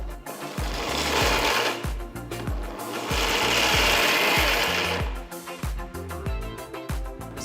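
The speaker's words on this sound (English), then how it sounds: "Transfer the cooled down ingredients to a mixer jar and grind it to a nice coarse powder." A mixer grinder whirs in bursts as it grinds cooled roasted ingredients into a coarse powder, two loud sustained runs separated by rattling, clattering pulses of the jar, close and alone.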